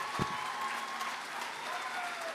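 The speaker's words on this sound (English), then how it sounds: "And please keep the applause going" An audience applauds after a piano performance, a dense, even patter of many hands clapping that is sustained but fairly soft and distant throughout.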